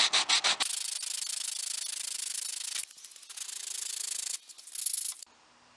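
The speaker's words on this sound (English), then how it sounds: "I'm just going to sand that back flush with the edge of the top." A sanding block rubs a veneer repair flush with the edge of the top of a 1910 Singer sewing machine, giving a close, steady rasping scrub in long strokes with a brief pause partway through.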